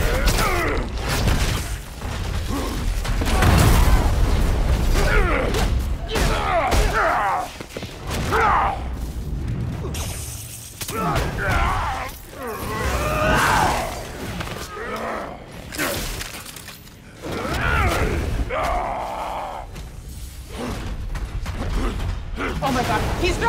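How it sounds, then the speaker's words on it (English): Rhino lifts and hurls a tank in the Spider-Man: Miles Morales video game, heard as heavy mechanical creaking, grinding and deep booms that run continuously at close range and loud level. "Oh my god, he's throwing a tank!"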